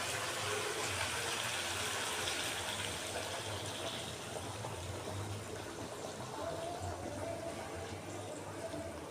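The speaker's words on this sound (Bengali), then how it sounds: "গরম জল করে রেখেছি, এবারে জলটা এখানে দিয়ে দেবো।" Hot water poured into a pot of Bengali chicken curry, a steady close gushing stream that runs unbroken for several seconds with a low bubbling rumble beneath it.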